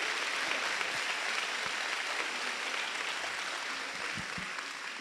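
Congregation applause at a church service, a steady dense wash of many hands clapping throughout, fairly loud and continuous with no talk over it.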